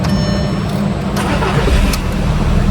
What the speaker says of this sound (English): let's just see if there is a delay when you start the vehicle.